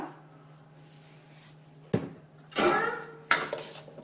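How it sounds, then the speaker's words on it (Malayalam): A spoon mixes kappa biriyani, a Kerala-style tapioca and bone dish, with salt in a pot, producing three sharp metallic clanks and scrapes against the pot, close and fairly loud. "നന്നായിട്ട് കുഴച്ചെടുക്കാം"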